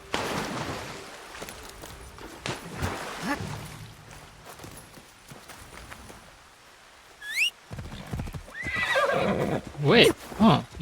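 A horse in a Japanese video game lets out loud whinnies near the end, after quieter clip-clop hoofbeats and scattered game sounds; a person talks over the earlier part.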